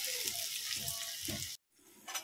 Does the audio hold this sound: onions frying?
yes